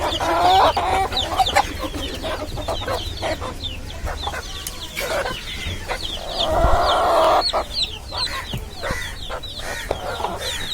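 Chickens on a small backyard poultry farm, including Polish cap and Fayoumi birds, cluck and squawk loudly close by, overlapping calls in bursts with a rooster-like crow midway.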